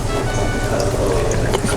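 Mexican-style stewed tomato juice is poured steadily into a cooking pot, a continuous liquid splash and trickle lasting under two seconds with no pause.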